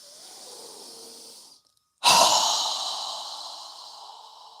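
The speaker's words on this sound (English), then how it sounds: "exhale through our mouth with a strong exhale" A single strong mouth exhale during yoga breathing, loud and close, rushing out after a brief pause and trailing off slowly, preceded by a softer steady breath.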